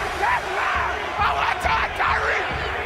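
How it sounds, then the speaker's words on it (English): A 2016 Kansas City Chiefs home crowd at Arrowhead Stadium chants Tyreek Hill's name as he fields a punt: a loud, rhythmic, massed roar of voices pulsing in repeated swells, with a steady wash of stadium noise beneath. "The crowd chanting Tyreek, Tyreek as Hill takes it"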